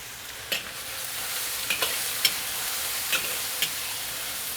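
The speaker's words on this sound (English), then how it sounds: "now I'm going to increase the heat to high and add the loofa" Loofah and chicken sizzle in a hot wok over high heat, a steady loud frying hiss with a few sharp clinks of the spatula scraping and stirring, no voices.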